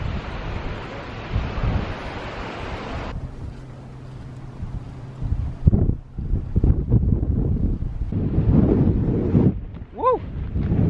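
Wind gusts buffet the microphone atop a sand dune on a Kenyan beach, loud broadband rushing at first, then dropping to quieter gusty bursts with brief thumps and handling noise.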